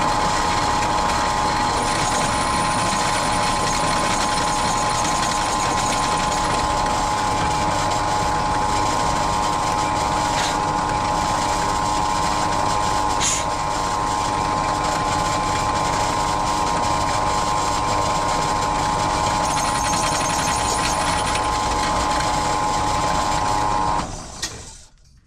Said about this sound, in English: Going a bit with a side drill. Have to go all the way through now.